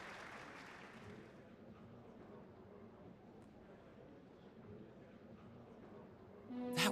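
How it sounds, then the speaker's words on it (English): Looped applause in the video game Trails of Cold Steel plays as a faint, flat, repetitive wash of clapping under low background noise, with a brief bright tonal sound at the end. "That loop for the claps is really bad."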